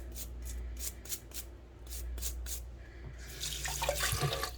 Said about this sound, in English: cleaning off the end bits and giving it a nice little scrub